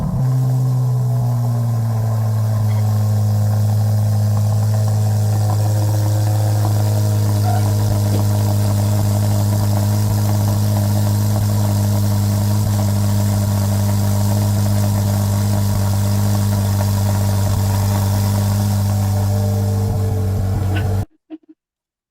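A torch red Corvette C8 Z06 engine runs steadily at idle with a deep, even drone and a strong low hum, holding constant for about twenty seconds before cutting off abruptly.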